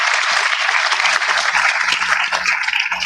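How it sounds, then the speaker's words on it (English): Loud, dense applause from an audience at an inauguration ceremony for a coders initiative, continuous clapping throughout with faint voices underneath. "I want us to applaud the government and people of the UAE"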